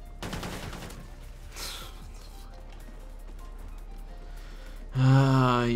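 Gunshots in the game Call of Duty Ghosts, a quick burst of rapid fire at the start followed by quieter game sounds and a brief loud tonal effect near the end.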